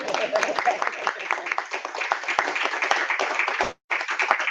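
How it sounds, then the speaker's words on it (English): Meeting attendees at a Springs school board session clap together in a brisk, moderately near round that stops abruptly near the end, then resumes briefly. "let's just clap for all of you"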